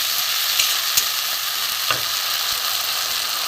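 Ground spice paste of tomato, onion, garlic and ginger fries in a pan with a close, steady sizzle, while a few sharp scrapes and taps of a spatula punctuate the hiss as it is stirred.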